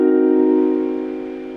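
A piano plays a single held chord built on a diminished fifth and a minor seventh. It rings clearly and alone, then slowly fades.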